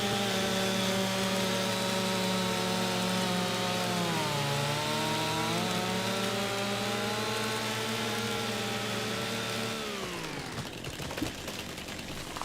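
A chainsaw in Farming Simulator 25 drones loud and steady while cutting trees, its pitch dipping under load and then dropping away as the saw winds down near the end.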